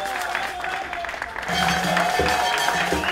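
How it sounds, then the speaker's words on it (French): Audience applause at a civic meeting, a steady dense clapping from a crowd filling the room, loud and continuous throughout with no talk over it. "On applaudit très fort pour le club d'action citoyenne"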